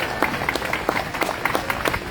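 Crowd at an outdoor rally applauding, with steady, scattered clapping of many hands heard from a middle distance at moderate loudness.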